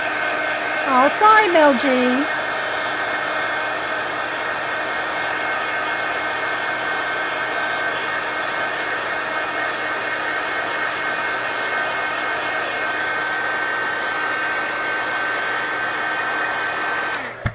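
Hair dryer blowing steadily and loudly close up, drying a wet art journal page, with a brief spoken remark near the start before the continuous airflow fills the rest.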